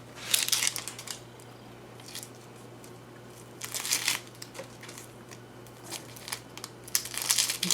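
Papery skin being peeled in layers from a vegetable for a classic potato salad, heard as dry crinkly rustles and tearing bursts that come and go over a steady low hum.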